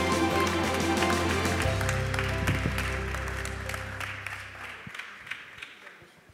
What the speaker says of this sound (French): on peut les applaudir une dernière fois